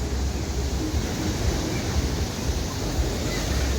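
Stormy sea surf at Arcadia beach in Odesa, a continuous loud roar of breaking waves mixed with heavy wind buffeting, with no talk.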